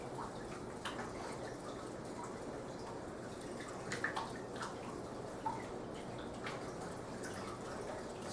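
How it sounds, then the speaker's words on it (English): Water splashing and churning in an aquarium driven by a pair of Jebao WP40 wave pumps on a fast wave setting, a steady wet wash with small drips and sloshes, fairly close and continuous. "Starting to get water splashing out already."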